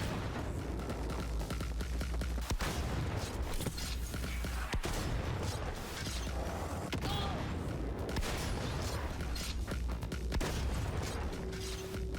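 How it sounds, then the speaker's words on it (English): Grenade blast in the video game Cyberpunk 2077, set amid dense, loud, continuous combat noise with booming impacts and rapid gunfire-like bursts throughout. "Let's put a grenade here."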